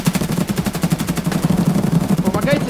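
Rapid automatic gunfire in the shooter game Escape from Tarkov, a dense, continuous burst of close, loud shots firing in quick succession.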